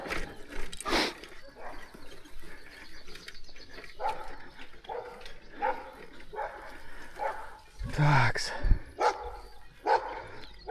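Dogs bark repeatedly in short bursts, some sharp and close, in the village of Gorodets near Bykhov, mixed with a few spoken words and outdoor background noise.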